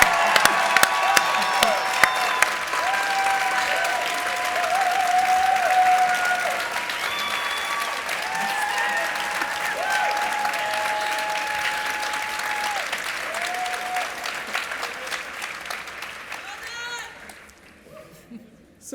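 Sustained audience applause fills an event hall announcing a free tax-filing program, loud and steady with scattered whoops and voices mixed in, gradually thinning and fading out near the end.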